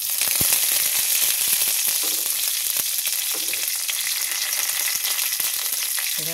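Curry leaves crackling in hot oil with spluttering mustard seeds: loud, dense close-up frying sizzle with scattered sharp pops throughout, no voices.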